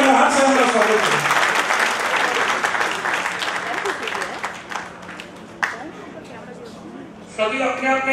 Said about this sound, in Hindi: सभी लोग तालियों की गड़गड़ाहट से उनका स्वागत करें।